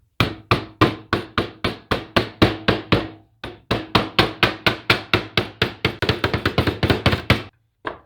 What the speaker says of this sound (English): well, a hammer and a mallet.